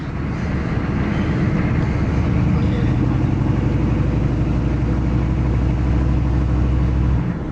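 A 6.2 turbo diesel truck engine cruises during a test drive, a loud, constant low drone and road rumble heard from inside the cab for several seconds, with occasional talking over it.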